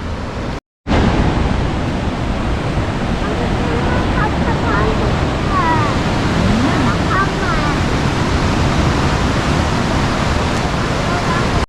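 A large waterfall in Bighorn National Forest gives a steady, loud broadband roar of falling water that holds throughout, broken only by a brief dropout near the start, with faint higher calls over it.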